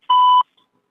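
A single clean electronic beep on a KBC IVR phone call sounds once, steady and clear, for about a third of a second, followed by silence.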